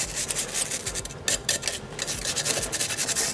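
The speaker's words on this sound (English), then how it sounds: "Give them a good scrub while you've got all that degreaser on them." Stiff, long-bristled brush scrubbing degreaser-coated jockey wheels on a road bike, a steady rasping, scratchy rub with quick back-and-forth strokes, close and fairly loud with no voices.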